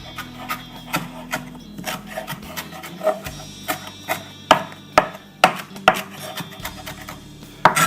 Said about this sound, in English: Wanted to wipe my board off because cilantro sticks to everything